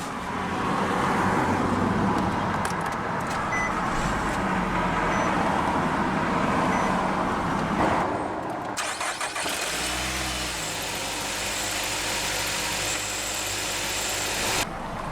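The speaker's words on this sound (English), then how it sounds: "let's go ahead and start the engine" A 2020 Nissan Rogue SV AWD engine cranks via push-button start and catches at once, then settles into a steady low idle that runs on quietly to the end.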